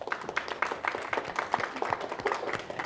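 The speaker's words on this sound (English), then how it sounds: "Give yourselves a round of applause." Conference audience applauding, a quick patter of many hands clapping at moderate volume, steady for the whole stretch.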